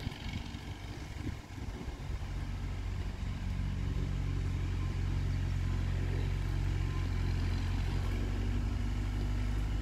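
A tractor engine runs steadily at low revs, parked in brush, a continuous deep rumble that starts slightly uneven and settles into a loud, constant drone with no talking.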